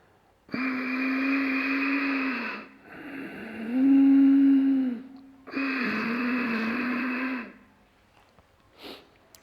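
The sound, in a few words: forceful ujjayi yoga breathing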